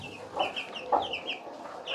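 Hens cluck in a farmyard coop where chicks are being raised, with several short, bright clucks coming at an uneven pace at moderate distance and no talking.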